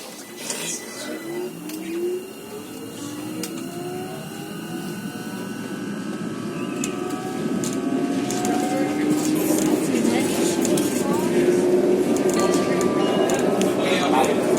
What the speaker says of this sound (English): let's take a ride on the new tram train along the old regular Sheffield tram route